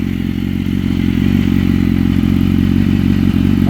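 A 2013 BMW S1000RR motorcycle idles with its exhaust baffle removed, a loud, close, low rumbling burble with a fast even pulsing that holds steady throughout, alone without talk.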